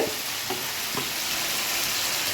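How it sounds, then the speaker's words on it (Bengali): Steady, dense sizzling of chicken frying in a pan, with a couple of faint soft knocks early on and no voices. "এবার ভাজা ভাজা হচ্ছে।"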